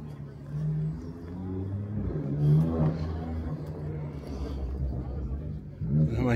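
A Mercedes W210 E55 AMG at a car meet gives a deep, rumbling engine note with several revs rising and falling, fairly close, under someone talking over it.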